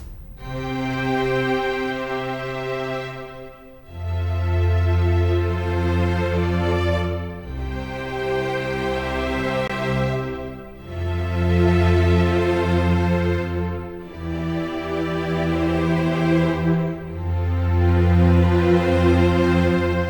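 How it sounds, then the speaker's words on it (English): An orchestral strings patch in Kontakt 7, with all strings layered together, plays a slow sequence of long sustained chords, each swelling and fading with brief gaps between them, with no voices. "I'm going to play a little so you can hear what the strings sound like."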